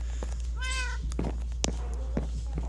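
A cat in the Minecraft video game meows once clearly, with faint clicks and thumps from gameplay over a low steady background hum.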